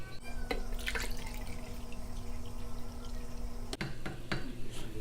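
Water pours into a food ration pouch as a thin trickle with a few drips, fairly faint and close, over a steady background hum.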